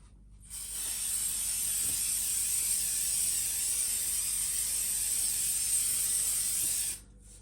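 K&N recharging oil sprayed onto an engine air filter, one continuous close aerosol hiss lasting about six seconds that starts and stops abruptly, with quiet before and after.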